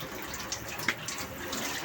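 Water pours from a solar-powered pump outlet feeding a fish pond, a steady splashing flow close by with a few brighter splashes, no voices.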